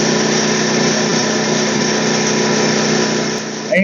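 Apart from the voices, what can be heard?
WEN generator engine starting and running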